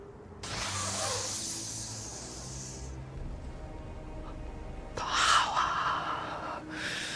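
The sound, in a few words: loud sniffing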